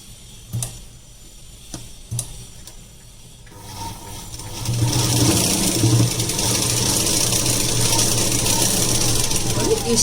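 A sewing machine stitches a long gown cut from an old saree. After a few isolated clicks it starts up and runs in a steady, close mechanical whir, with a voice speaking early on.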